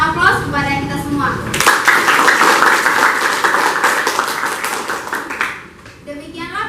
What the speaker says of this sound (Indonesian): kita berikan aplaus kepada kita semua